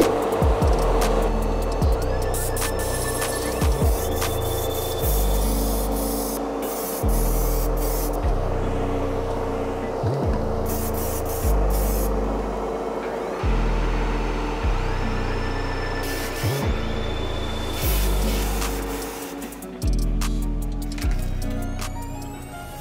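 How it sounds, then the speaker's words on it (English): Opaque white paint is sprayed onto baseball cleats in a steady airy hiss, with a machine pulsing underneath in regular surges about every two seconds, close and continuous with no talking. "gonna be laying some paint down on the cleats"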